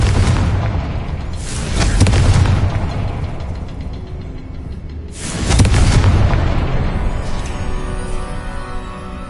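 Two heavy blasts from the Confringo spell in Hogwarts Legacy, each a deep booming explosion that rumbles and fades over a couple of seconds, loud and close, spaced about four seconds apart.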